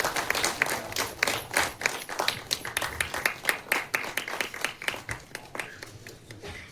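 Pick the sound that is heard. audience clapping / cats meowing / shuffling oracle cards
audience clapping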